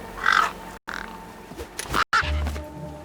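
Birds caw harshly in the video game Beyond a Steel Sky, several close, raspy calls in quick succession with brief gaps, set over low background ambience.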